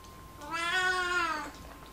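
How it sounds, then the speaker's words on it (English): A house cat lets out a single drawn-out meow lasting about a second, close and clear against a quiet indoor background. "Cat!"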